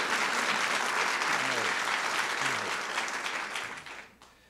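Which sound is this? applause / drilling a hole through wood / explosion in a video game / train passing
applause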